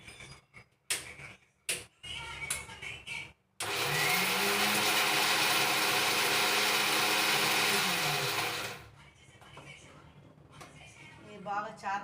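A kitchen mixer grinder whirs loudly and steadily for about five seconds while grinding fresh coriander leaves for a rasam, with someone speaking briefly before and after the grinding.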